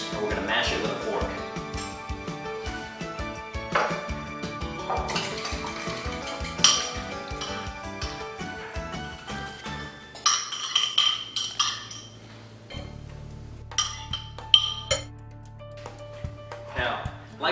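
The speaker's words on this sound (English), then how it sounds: "we're going to mash it with a fork" Fork mashing beans with garlic mash in a home kitchen, with repeated clinks and scrapes of metal against a bowl alongside other utensil and dish sounds, heard under a voice talking throughout.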